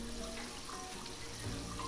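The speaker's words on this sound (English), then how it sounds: "I'm gonna just wash my face" A bathroom sink tap runs with a steady, unbroken hiss of water as a character washes their face in the video game Heavy Rain.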